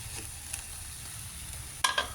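Hot cooking oil spattering in a pan of string bean adobo, a soft steady sizzle with scattered small pops and a sharper crackling burst near the end.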